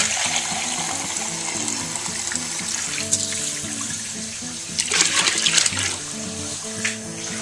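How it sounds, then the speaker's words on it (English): Chilled water pours steadily into a beer kit fermenter, a continuous splashing stream that briefly grows louder and more turbulent partway through, with a low hum underneath. "So I'll go ahead and add some more chilled water"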